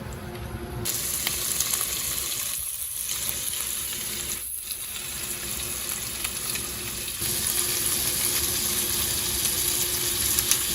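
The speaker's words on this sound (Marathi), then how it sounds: "छान खरपूस भाजून घ्यायचं दोन्ही बाजूनी" Chicken malai kebab pieces fry in a pan, browning on both sides, with a steady, loud sizzle throughout and brief scraping or turning sounds midway, no voices.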